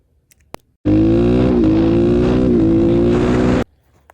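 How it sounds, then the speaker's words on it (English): A car engine revving hard at steady high RPM, with brief dips where a kill switch is tapped mid-shift, loud and close for about three seconds before cutting off abruptly. "the quickest little push of the kill switch will drop the RPMs, and it's basically like letting off the throttle"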